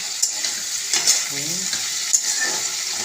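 Potatoes fry in a pan on raised heat, a steady close sizzle with occasional scraping stirs and light clinks, no talking.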